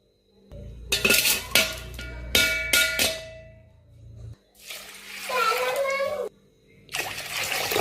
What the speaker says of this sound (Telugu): నీళ్ళు ఎక్కువనే పోసి నానబెట్టాలి